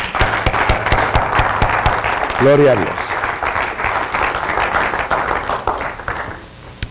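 A church congregation claps loudly and steadily throughout a worship service, and a voice calls out briefly over the applause before it fades.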